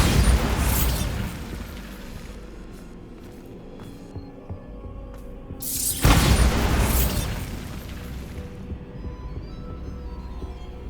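A Bombarda spell blast in Hogwarts Legacy, set in a haunted Hogsmeade shop, lands as two booming bursts, the second heavier and followed by a decaying rumble and low hum.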